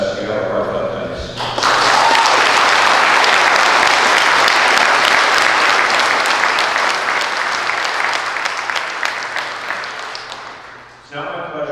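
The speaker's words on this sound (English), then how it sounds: "Please join me in a round of applause for our families, friends, and shipmates who played a large part in our sailors' success." An indoor audience at a naval training graduation ceremony breaks into sustained applause, loud and steady clapping for about ten seconds before fading, with a voice speaking before and after.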